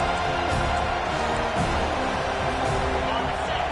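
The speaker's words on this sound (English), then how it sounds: "Here comes this home crowd as the defense tries to get off the field on third down." Home crowd roaring steadily in an NCAA college football video game during a third-down defensive stand, a dense continuous wash of cheering with a commentator talking over it.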